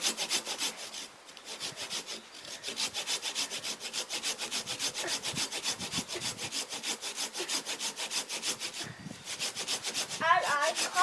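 Wood being sawn by hand at a wild campsite in Scotland, steady rhythmic back-and-forth rasping strokes close up and loud, running continuously for about eleven seconds with only brief pauses between strokes.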